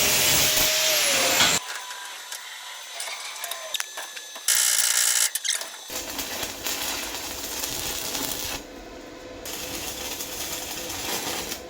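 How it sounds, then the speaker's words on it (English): An angle grinder works metal bits off a 75-year-old trailer chassis, with loud harsh bursts of grinding that start and stop in separate runs and quieter gaps between them. "Now I just need to grind those little bits back."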